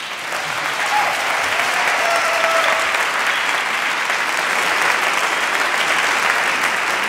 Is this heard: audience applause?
yes